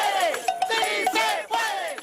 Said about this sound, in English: This is the sound of people demanding change.